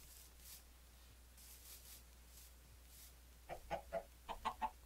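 Minecraft chickens clucking in quick bursts near the end, six short squawks in a rapid string after a stretch of faint background ambience and soft rustles.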